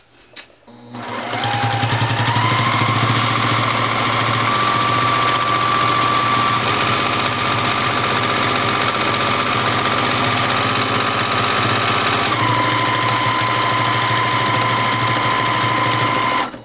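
A sewing machine stitching free-motion quilting, stippling over fabric, runs as one steady close whirring hum whose pitch rises at the start and drops slightly near the end, with no talking.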